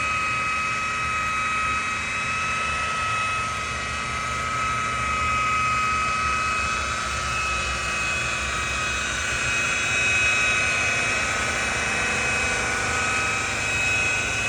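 A polisher with a yellow buffing pad compounding boat gel coat in a marine detailing job gives a steady, loud, continuous whine and whir with a constant tone, running alone without talk.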